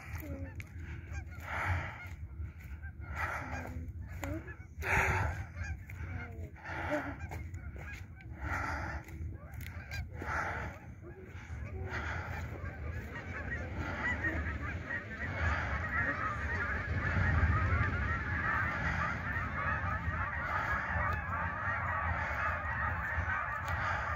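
A large flock of geese honking continuously on a cold winter day, many overlapping calls, with steady low rumble of wind or traffic underneath; loud throughout.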